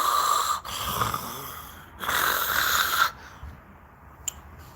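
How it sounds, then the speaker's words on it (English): Heavy breathing close to the microphone in two long rasping breaths separated by brief pauses, the second one stronger, with a small click near the end and no talking. "You can hear me breathing."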